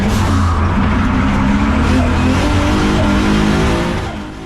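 A 2-litre turbo drift car on Nankang-type rear tyres drops from third to second gear through a hairpin, its engine roaring loud and close, with tyre squeal and a brief fade near the end.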